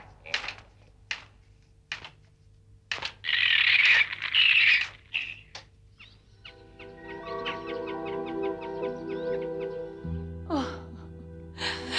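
A rooster crows in a staged scene, a short sequence of bursts early on, fairly loud, followed by a sustained tonal musical passage.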